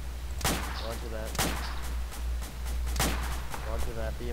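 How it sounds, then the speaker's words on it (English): Gunfire in Arma 2 comes as several sharp, spaced shots over a steady low engine-like drone, with people talking throughout. "Alright, shoot him, shoot him, shoot him."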